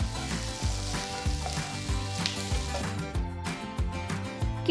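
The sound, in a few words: boiled potatoes frying in masala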